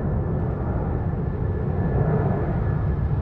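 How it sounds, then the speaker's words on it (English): An airplane passes overhead above a large parking lot in Luxembourg, giving a steady low, muffled rumble of moderate loudness with no other clear sounds. "Check out the plane."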